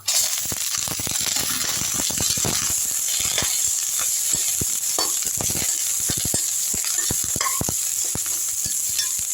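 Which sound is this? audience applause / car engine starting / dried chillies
dried chillies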